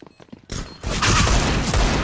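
Gunshots in GTA 5 roleplay erupt after a quiet moment into a dense, loud barrage of overlapping shots and booms.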